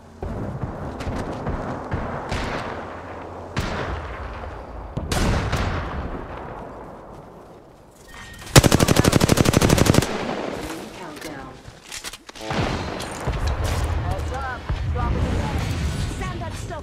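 Bursts of automatic gunfire and heavy shots in the Apex Legends battle royale game, loud dense volleys with a sustained rattling stretch midway, mixed with game effects and occasional voice lines.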